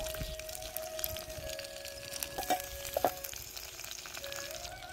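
Chopped onion sizzles steadily in hot oil in a pan as it browns to a deep red, a continuous close frying hiss broken by a couple of brief clinks or stirs near the middle.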